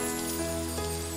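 Steady rain pours down just before winter, a dense, even hiss of drops falling on surfaces that holds without a break and carries no voices.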